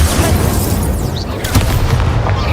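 Incendio fire spell cast in Hogwarts Legacy, a loud, dense burst of low booming roar with crackling bursts, sustained throughout with a brief flare midway.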